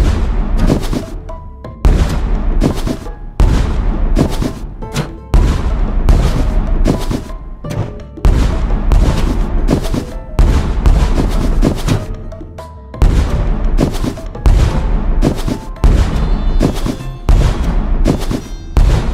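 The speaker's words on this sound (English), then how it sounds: "Potato bombs, nice." Potato bomb explosions in Plants vs Zombies, a long run of loud thumping booms in quick succession, broken by brief pauses, with busy game effects throughout.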